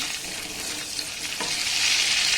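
Whole cloves, cardamom and cinnamon frying in ghee and butter with a bay leaf, a dense continuous sizzle close by with a faint stir of the spoon, no voices.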